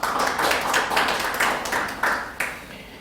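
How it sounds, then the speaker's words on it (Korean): A Korean church congregation at a Wednesday service claps in praise, loud bursts of clapping in uneven waves that swell and drop several times within a few seconds. "하나님께 영광의 박수를."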